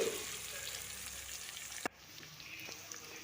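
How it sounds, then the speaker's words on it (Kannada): Chopped onion frying in a pan for vegetable uppittu gives a low, steady sizzle close by, broken once by a sharp clack of a utensil before the soft frying continues. "ಒಂದು ಈರುಳ್ಳಿ ದೊಡ್ಡದು ಕಟ್ ಮಾಡಿ ಹಾಕ್ಕೊಂಡಿದ್ದೀನಿ ಅದನ್ನು ಹಾಕಿ ಫ್ರೈ ಮಾಡ್ತಿದ್ದೀನಿ"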